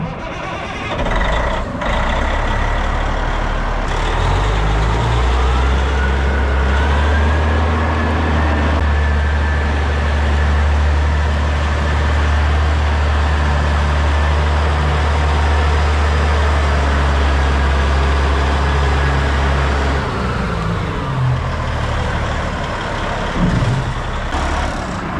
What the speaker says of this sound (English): Let's go get the truck up to the pad.